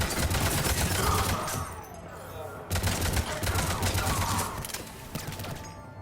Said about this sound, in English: I'm actually going to use the assault rifle for this.